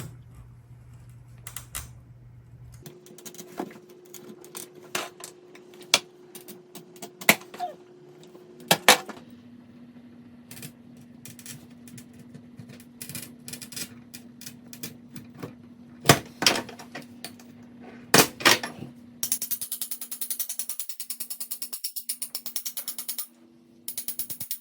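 Stained glass being cut and worked by hand, with scattered sharp clicks, taps and scratchy scoring sounds over a faint steady hum, quiet and close, no talking.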